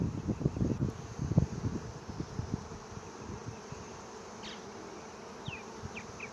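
A honey bee swarm buzzes loudly and continuously at close range, louder in the first couple of seconds and then steadier and softer, with a few faint high chirps toward the end.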